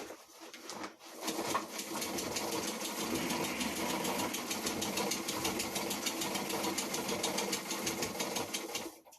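Treadle sewing machine stitching canvas for a sail's sacrificial strip, a rapid, steady mechanical clatter of needle strokes running continuously for several seconds, fairly close and alone.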